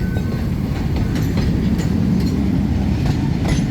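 A freight train hauled by a DK locomotive on the Thai railway rolls steadily past, with continuous low rumble and faint rhythmic wheel clacks, close and loud throughout.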